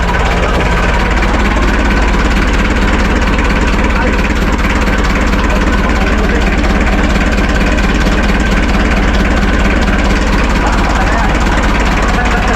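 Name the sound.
motorcycle engine started and idling after cleaning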